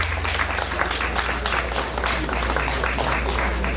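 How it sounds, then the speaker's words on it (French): Sustained applause from a gala audience honouring the queen, dense and steady clapping filling the room throughout, with no break or speech over it. "Est-ce qu'on peut applaudir pour elle?"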